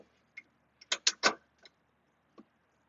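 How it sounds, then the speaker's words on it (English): Pin and washer pulled from the frame of a Simplicity lawn tractor: a few sharp metallic clinks and taps, a quick cluster in the middle, sparse and close in an otherwise quiet space. "We're gonna pull our pin, grab our washer, move to the other hole"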